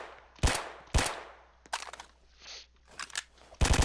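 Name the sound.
gunfire in a shooter video game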